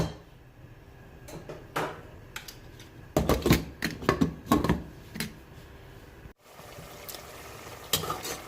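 A spoon stirs green chilli keema in a pan, giving irregular scraping and clattering strokes that cluster loudly in the middle with a faint sizzle underneath and no talking.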